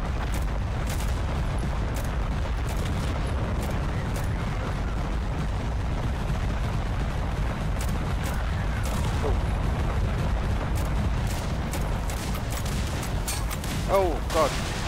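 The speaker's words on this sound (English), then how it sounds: "someone's firing grenade launchers at me" Grenade launcher explosions in the Total Conflict Resistance video game, a dense, continuous barrage of booms and gunfire rumbling loud and close for the whole stretch, with a voice speaking over the din.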